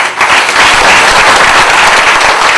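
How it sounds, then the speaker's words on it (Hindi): A hall audience at a Brahmarshi Patriji spiritual talk in Talegaon Dabhade claps for themselves, a loud, close, dense burst of applause with no pauses. "अपने आप के लिए जोरदार तालियां बजाइए"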